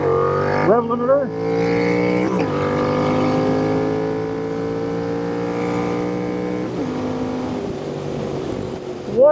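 Royal Enfield INT 650 motorcycle with a Revelry Racing intake and S&S cam, its engine revving hard and repeatedly climbing to the rev limiter, loud and close, with brief drops between pulls.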